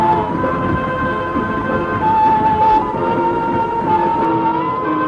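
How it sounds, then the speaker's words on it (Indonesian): Coal-fired steam locomotive train running in the Padang region of Indonesia in 1973, a loud, steady rumble and clatter with a sustained whistle-like tone droning over it throughout. "Lokomotif di wilayah ini menggunakan bahan bakar batu bara"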